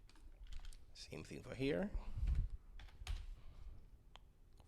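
Keyboard typing while drafting a building floor plan on a computer, soft scattered key clicks running under a man's speech.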